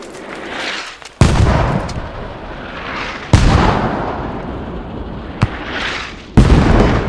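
Mortar fire in the video game Squad: four loud, close booms spaced a couple of seconds apart, each followed by a long rumbling decay, with no talking.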